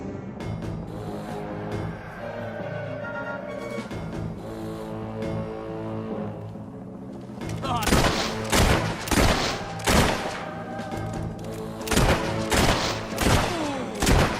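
Gunfire in the video game Fable 3 erupts halfway through, a string of loud, sharp shots in an irregular volley over a sustained orchestral music bed that plays alone at first.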